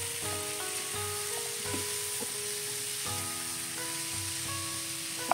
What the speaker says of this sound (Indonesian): Jadi ayam, wortel, jamur kita seperti kayak goreng-goreng sebentar